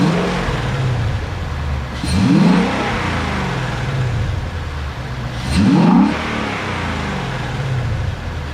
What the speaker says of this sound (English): Maybe we could hear some more induction air intake sounds now that the you know, this filter breathes easier.